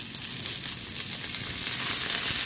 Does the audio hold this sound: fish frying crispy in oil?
yes